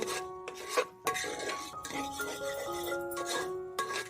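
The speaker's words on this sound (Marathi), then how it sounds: "आणि अजून त्याला दोन तीन मिनटं असं ढवळत राहूया" Thick sweet lentil puran filling is stirred in a pan, giving close, steady scraping and rubbing strokes with a few light clinks, and no voices are heard.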